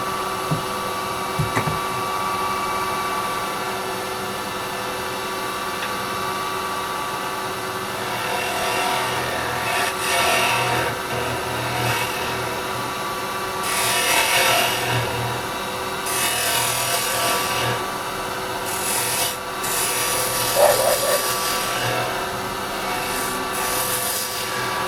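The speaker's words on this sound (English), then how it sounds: "So, I'll come in with my round chisel." A round carbide chisel cuts a resin bowl spinning on a lathe, a continuous scraping, rasping hiss with a steady motor hum beneath, rising in bursts as the tool bites, close and fairly loud with no talking.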